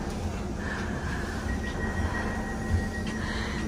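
A passenger train bound for Hamburg rolls along with a steady low rumble and rattle of the carriage, while a thin, sustained wheel squeal rises and holds for a few seconds, heard from inside the train with no talking.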